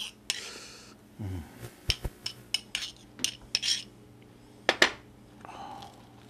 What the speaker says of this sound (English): You get this honey butter that I mixed up, or I'm mixing up currently.